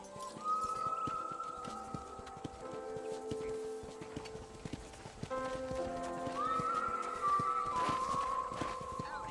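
Horse hooves clip-clop steadily at a ranch corral in Red Dead Redemption while horses neigh and whinny repeatedly, with layered tones that sound synthetic, like a game soundtrack.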